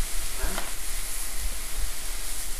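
Meat for chicharron fries in hot oil with a steady, close, bright sizzle and crackle, broken by a few low bumps from stirring or from pieces shifting in the pan.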